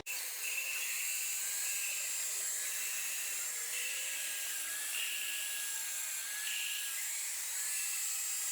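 A hand drill grinds steadily at the ports of a 4AGE 20V engine cylinder head, a high continuous whine with slight pitch wavers, close and fairly loud, no talking.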